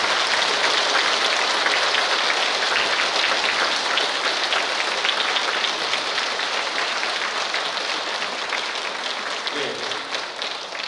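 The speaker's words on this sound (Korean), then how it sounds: "큰 박수로 기쁨을 표현하며 주교님을 제단 앞으로 모시겠습니다" A church congregation at Sunday Mass claps to welcome a bishop to the altar, producing a dense, loud, rain-like wash of applause that holds steady throughout and only slightly softens toward the end.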